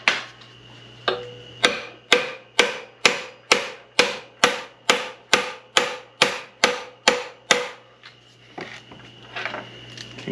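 Metal hammer blows strike a stuck part of an SM465 truck transmission during a rebuild, about fifteen sharp evenly spaced taps in a steady rhythm, close and clear over a faint background hum.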